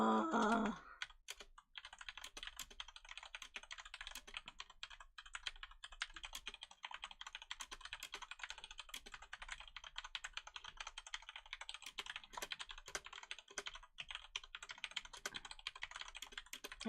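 Computer keyboard typing, a rapid, continuous stream of close clicks and clacks with an uneven rhythm, fairly quiet and heard almost entirely on its own after a brief opening sound.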